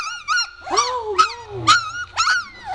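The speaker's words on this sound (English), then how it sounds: "Do you hear them barking at me, Miss Hickory?" A litter of young puppies yapping and whining in quick high-pitched bursts, close by, with a low rumble underneath.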